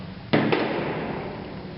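Two sharp reports from a Colt 1911 pistol fitted with a .22 conversion unit, the first louder and the second following a fifth of a second later, with a brief ringing tail outdoors.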